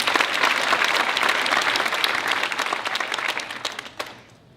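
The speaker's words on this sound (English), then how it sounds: "please give a round of applause to Charles" Audience at a college fund awards event applauds for an absent award recipient, a dense, loud burst of many hands clapping that holds steady, then thins and tapers off near the end.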